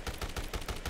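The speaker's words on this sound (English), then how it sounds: "I'm just gonna shoot this guy" Rapid gunfire from the Dead Rising Deluxe Remaster video game, a quick burst of about five evenly spaced muffled shots at moderate loudness, no voices.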